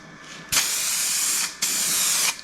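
Two sustained hissing bursts of semi-gloss RAL 9005 black spray paint from an aerosol can, close and loud, separated by a brief pause, with a third starting at the end.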